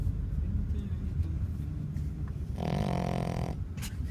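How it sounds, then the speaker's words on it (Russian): A dog snores in steady, rough breaths, loud and close, with a low car-like rumble behind it. "Даже с открытыми глазками, что ли, храпишь?"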